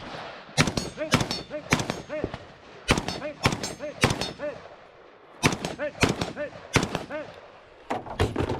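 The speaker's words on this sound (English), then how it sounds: "Once the steel is engaged, the shooter moves to their next shooting position and engages the rifle steel once again" Rifle and pistol rounds strike steel targets at a multi-gun match, a rapid series of sharp shots each followed by a ringing metallic clang, bursts spaced with short pauses, loud and close.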